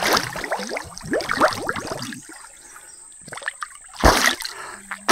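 Splashing and trickling water while someone bathes in a cool, clear river: a run of close, bright sloshes and drips, then a pause, then a couple of bigger splashes, loud and near, with no speech.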